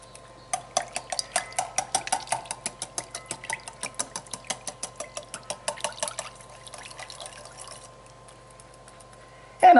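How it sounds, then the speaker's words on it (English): A whisk beats a low-carb veggie casserole mixture in a large bowl, producing a fast rhythmic series of clicking strokes for about six seconds before slowing and fading, with a brief voice at the very end. "let me get my whisk, and blend this up"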